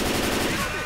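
A stationary mounted machine gun fires in the Left 4 Dead video game, a dense, loud, rapid continuous burst filling the short moment, close and unbroken.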